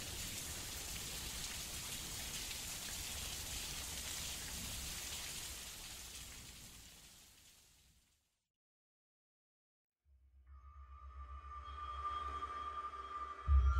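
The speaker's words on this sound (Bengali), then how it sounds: "তারপর বাইরে বেরিয়ে দেখলাম বৃষ্টি শুরু হয়েছে" Steady rain falls as a dense, even hiss for several seconds, fades to silence, then a fresh rainy ambience returns with a low rumble and a faint tonal hum.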